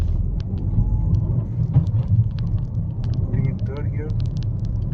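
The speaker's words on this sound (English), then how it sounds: "Let's see the pickup of the car." A Ford EcoSport petrol car accelerates on the road, with a steady low engine rumble and road noise from inside the cabin and brief faint voices over it.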